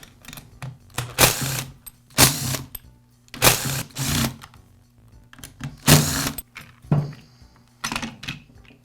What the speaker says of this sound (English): Next, I'll remove the starter assembly.